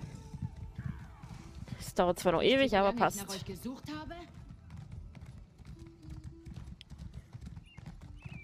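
Horse hooves clip-clop in a quick galloping rhythm in the Elder Scrolls Online video game, a loud burst with a whinny near the start, while a German-speaking voice talks over it.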